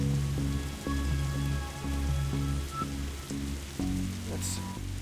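Rain falls steadily in The Darkside Detective, a continuous wash of patter sitting under a prominent looping game music track, fairly loud throughout the stretch.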